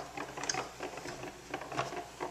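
A hand-cranked cutting machine draws cardstock through its rollers with soft, rhythmic mechanical clicking and patter, quiet and close, with no speech.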